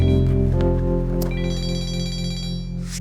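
A telephone rings with a loud, close electronic ringtone that sounds continuously for about three seconds, with no talking over it.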